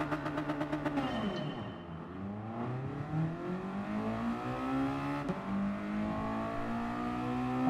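Race cars in GT Sport launch at the start of a race on the Tokyo Expressway, with engines revving hard together and pitches sweeping up through gear changes. The sound is loud and continuous with no talking.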